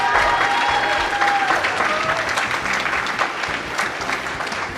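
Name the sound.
audience applause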